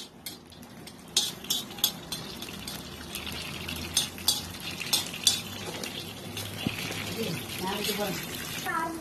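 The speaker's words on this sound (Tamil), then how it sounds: "ஒரு கிண்ணத்துல அதுல கொஞ்சோண்டு நெய் போட்டு காஜுவும் போட்டு நல்லா வறுத்துக்கிடுங்க" Cashews roast in ghee in a small bowl, making a quiet sizzle under repeated metallic clinks and scrapes of a spoon against the vessel, with a voice talking throughout.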